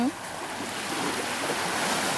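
Sea waves wash steadily onshore, a continuous broad hiss of surf recorded close with slight wind buffeting on the microphone.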